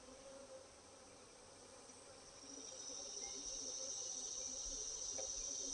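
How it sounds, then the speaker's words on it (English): Honeybees in an opened, agitated hive make a steady, dense buzz close by, which swells a little louder and higher partway through and carries on with no speech over it. "We have bees just running crazy."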